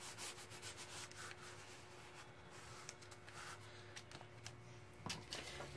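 Fingers rubbing firmly over a freshly glued craft piece, a soft dry scuffing and brushing texture repeated in short strokes, quiet and close with no voices.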